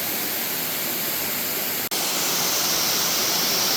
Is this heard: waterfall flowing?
yes